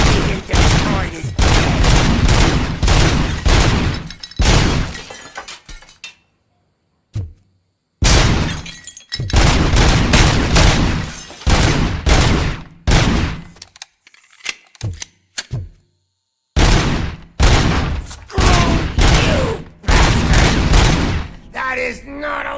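Gunfire in the first-person shooter Robocop: Rogue City, loud dense bursts of shots and impacts repeating in long volleys with brief silent gaps, mixed with shattering debris.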